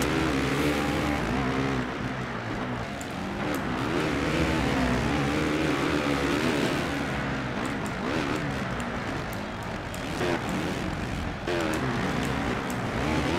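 Motocross bike engine in the MXGP video game on a hard-difficulty race, revving loudly and continuously with rising and falling pitch, steady and close throughout.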